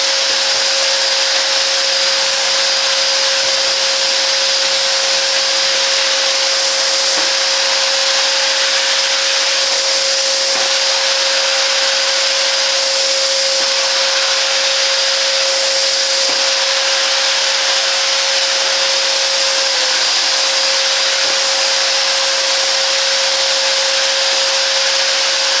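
Parkside PWS 20 D3 carpet cleaner runs loud and close, a continuous high suction roar with a steady motor whine that stays even and unbroken throughout, with no voices.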